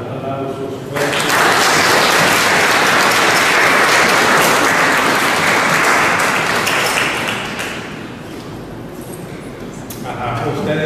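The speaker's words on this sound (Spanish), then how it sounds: "le damos aplausos fuertes" Loud applause from a church congregation at a fifteenth-birthday mass for Salvador, a thick roar of clapping that swells after a brief opening, holds strong for several seconds, then eases and picks up again near the end.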